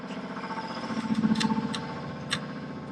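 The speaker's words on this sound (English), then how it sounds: "Now the compressor's running, so that's awesome." An air compressor runs in a motorcycle workshop, giving a steady, continuous droning hum with a few faint ticks and clicks over it. No one speaks.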